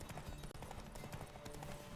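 Roach, Geralt's horse in The Witcher 3, trots along with quick, rhythmic hoof clip-clops in the game, fairly quiet under a busy background with no talk.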